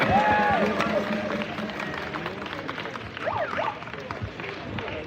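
An outdoor London protest crowd against digital ID applauds and cheers for a writer and political commentator, a broad burst of clapping and scattered cheers that gradually thins.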